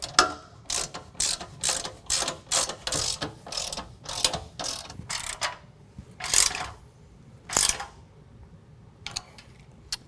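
Hand ratchet tightening bolts on a Rugged Ridge XOR rear bumper with tire carrier on a Jeep JK, a rapid series of sharp clicking bursts in repeated strokes, fairly close, with brief pauses between strokes and no talking.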